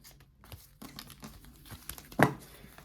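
Paper cash envelope crinkling and rustling as it is handled, with soft scattered crackles building to one louder crumpling burst near the end, close and without speech.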